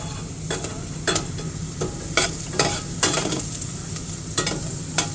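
Onion frying in a pan, a loud close sizzle punctuated by repeated scraping stirs of a spatula at an uneven rhythm.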